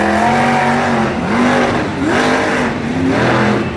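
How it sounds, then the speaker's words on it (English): Monster truck engine at a Monster Jam stadium event in Salinas, loud and continuous, with the revs rising and falling in several waves as the truck works through a freestyle run. "Engine seems to also be straining just a tad."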